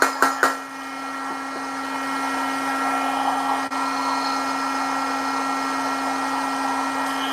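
A heat gun set on high blows hot air onto a freshly painted fishing jig. A few quick clicks at the start give way to a steady, close, whirring rush of air with a constant hum.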